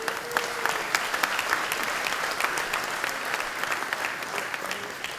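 Audience at a security conference talk in Norway applauding, a steady wash of many hands clapping at moderate distance, sustained evenly with no talk over it.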